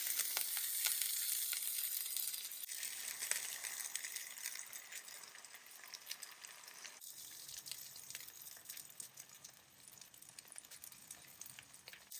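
Pinwheel sandwiches fry on a Blackstone griddle, a loud close sizzle that stays continuous and slowly eases in intensity, crackling on its own with no talk.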